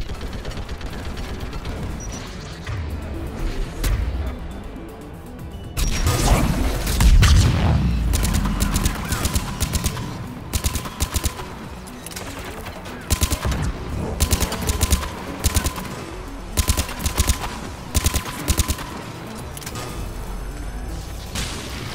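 Rapid bursts of turret gunfire in the video game Mass Effect 3, loud sustained automatic fire with booming impacts, then repeated staccato volleys over a busy combat soundscape.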